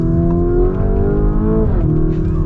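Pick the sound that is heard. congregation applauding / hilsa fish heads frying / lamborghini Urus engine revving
lamborghini Urus engine revving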